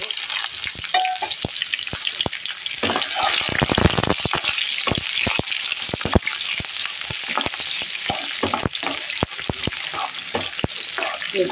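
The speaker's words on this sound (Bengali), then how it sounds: "এখন আমি পেঁয়াজ কুচি দিয়ে দেবো।" Chopped onions frying in hot oil in a frying pan, a loud, crackling sizzle dense with rapid pops and scraping stirs throughout, heard up close.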